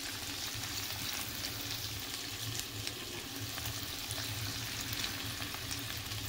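Sliced onion, chili, tomato and bell pepper hit a hot pan with seared crab and shrimp, giving a steady, even sizzle with faint stirring scrapes throughout, heard alone at moderate distance.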